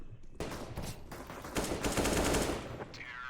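Rapid AK-47 automatic fire in Counter-Strike, a dense burst of close, loud shots running nearly three seconds, with a brief quieter tail at the end.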